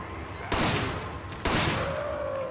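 Two sharp bursts of rapid gunfire in the video game Resident Evil 5 ring out about a second apart, loud and close, each trailing off into a noisy tail.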